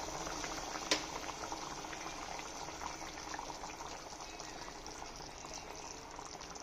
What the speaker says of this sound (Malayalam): അങ്ങനെ മാങ്ങാക്കറി തിളച്ചിട്ടുണ്ട്